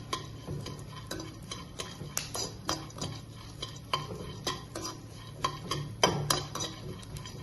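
Roasted gram is fried in a pan and stirred, making a faint, irregular scrape and clink of a spoon against metal. Soft sizzling runs under the stirring, and no one speaks.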